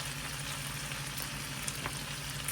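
Carrots cooking in a stir fry pan give a steady, close sizzle with soft bubbling underneath and a faint low hum, continuous and even with no voices.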